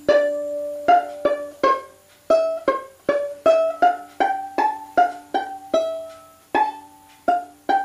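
A violin plays the last line of the reel Drowsy Maggie, a quick run of around twenty detached bowed notes over a ringing open string drone, close and dry with no voices.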